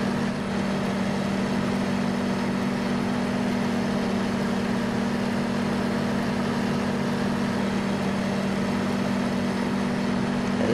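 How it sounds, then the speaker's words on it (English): A tractor in a farming video game idles with a constant low engine hum and a steady tonal drone, unchanging and alone, with the tractor rigged for a Degelman blade. "Evidently, this tractor works with the Degelman blade."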